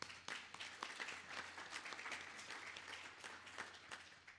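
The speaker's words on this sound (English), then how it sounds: "give yourselves a round of applause" Meeting attendees at a BKCASE systems engineering community gathering applaud together, a fairly faint but sustained patter of many hands clapping for several seconds with no talk.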